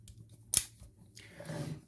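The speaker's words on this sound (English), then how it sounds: "The scissors, I actually quite enjoy the scissors on this." The scissors on a Leatherman Free multitool make one sharp, crisp snip up close, followed by a soft rustling of handling in an otherwise quiet space.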